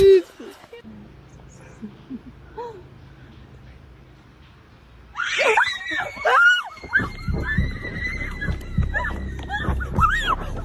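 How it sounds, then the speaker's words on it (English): After a quiet stretch with faint sounds, a loud, high, wavering scream breaks out, followed by agitated voices and commotion. "The group hears a terrifying scream and runs back to the car."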